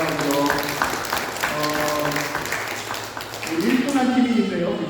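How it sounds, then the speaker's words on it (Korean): A church seminar audience gives dense, steady applause lasting several seconds, with a speaking voice mixed in over the clapping. "박수로 여러분 옆에 격려하고요"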